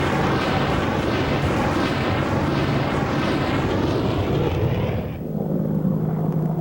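Armed Apache attack helicopters rise together from below a tree line, their loud, dense rotor and engine roar filling the scene before suddenly thinning to a lower steady drone.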